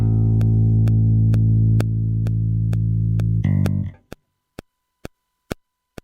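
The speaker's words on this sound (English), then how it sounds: "Ample Bass TR6 from Ample Sound." Ample Bass TR6 virtual bass on an Akai MPC: a deep, sustained bass note holds for a few seconds, shifts, then cuts off, leaving a steady ticking click on its own at a regular beat.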